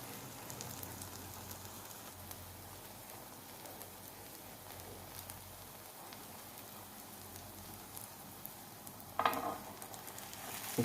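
A gram flour omelette frying in a pan gives a soft, steady sizzle throughout, with a brief louder clatter near the end.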